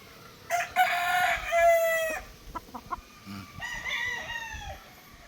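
A Boston straight comb breeder rooster crows close by, a long drawn-out call followed by a few clucks and then a second, shorter crow, with other farmyard noise faintly behind.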